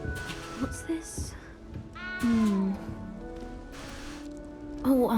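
A cat in the video game Hogwarts Legacy meows several times, with clear, close meows at irregular intervals, one long drawn-out cry in the middle, against soft rustling game ambience and some speech.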